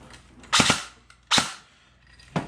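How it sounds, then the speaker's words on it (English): An M4 rifle fired with no magazine inserted gives three sharp, close reports about a second apart, each cracking and then fading quickly. "I just fired it just a little bit so y'all can hear it"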